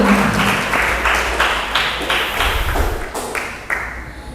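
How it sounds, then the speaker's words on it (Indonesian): Audience applause for the speakers at an Indonesian student literary talk on prize-winning short story writing, steady clapping with some thumps and taps, fading slightly toward the end. "sekali lagi beri tepuk tangan untuk para pemateri kita yang sudah hadir pada sore hari ini"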